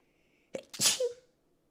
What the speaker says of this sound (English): That was the cutest sneeze I ever heard.